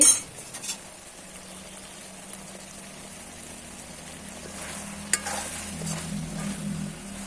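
Cooked okra masala being moved from one pot into another, a faint low sizzle with a few scrapes and a spoon clink against the metal, close and quiet with no voices.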